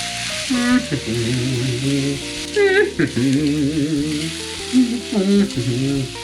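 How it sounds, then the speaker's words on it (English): Cooked rice tipped into a pan of kimchi and mixed while it fries: a continuous bright sizzle with scraping and stirring bursts, under a loud melodic tonal layer. "it's time to add our rice. And mix all together."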